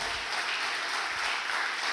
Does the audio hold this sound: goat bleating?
no